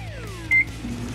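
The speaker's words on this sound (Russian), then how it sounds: "Ну а теперь вашу пиццу в духовку. Включаем." A toy oven is switched on to bake a pizza, giving a short, bright electronic beep over a faint hum, with falling tones just before it and a low drone afterward.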